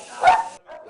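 A dog in a shelter kennel gives a sharp, close bark followed by a softer yip, a short burst heard alone.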